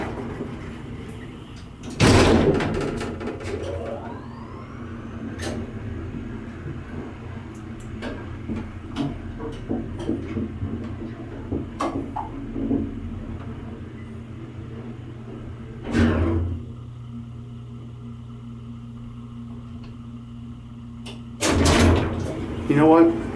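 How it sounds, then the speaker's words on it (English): A vintage traction elevator's door opens and closes with sharp clanks and rumbling slides, several distinct bangs spaced across the clip over a steady machine hum, with people talking at times. "Door does not close when you push the button."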